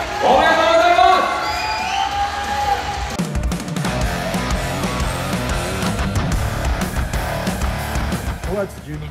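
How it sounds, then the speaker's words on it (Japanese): Crowd at the West Japan Championships 2023 men's physique bodybuilding show cheers and shouts loudly for the overall champion, with whoops over a continuous roar; a voice speaks over the opening second. "皆さん、1年越しのリベンジチャンピオンにもう一度大きな拍手を送りください。"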